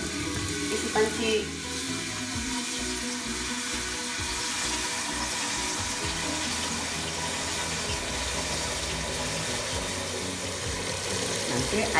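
Tap water runs into a cooking pot while making Indonesian vegetable soup, a steady rushing stream with a faint rising fill tone, continuous for the whole stretch.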